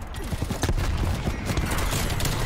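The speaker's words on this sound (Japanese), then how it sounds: "で、空爆を、目の前に落とすでしょ？" An airstrike lands in Call of Duty: Black Ops Cold War on the Nuketown map, a rapid string of loud explosive bursts and crackling impacts filling the short clip, with a voice partly mixed in.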